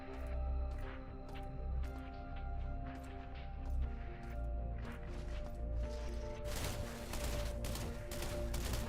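Gunfire in the video game System Shock, a rhythmic series of sharp shots over a steady background hum, closing in a denser burst of noisy impacts.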